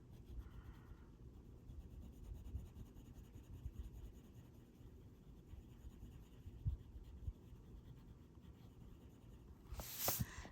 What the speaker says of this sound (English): we're going to use our lightest color, our camel, and again, we're going to blend it out.